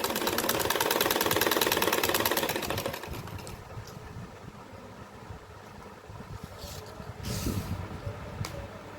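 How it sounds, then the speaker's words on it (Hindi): A sewing machine runs fast and loud while stitching elastic onto palazzo pants, a dense, even whir that stops after about three seconds, followed by quieter handling of fabric and the machine, with no speech. "अब इसको ऐसे ही मिलाते जाएंगे और सिलाई लगाते जाएंगे"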